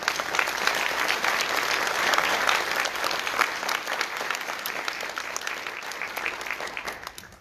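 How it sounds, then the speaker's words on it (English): A church audience applauds at a Sunday service in Trinidad, dense, steady clapping that stays loud throughout and fades slightly near the end. "we'd like for you to join us with a round of applause to these people"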